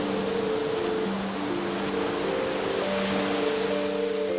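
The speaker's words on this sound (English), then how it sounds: "calm ocean ambience and open shoreline" A steady, close wash of Minecraft ocean waves rolling onto the shoreline, a continuous even rush of surf with faint sustained musical tones underneath and no voices.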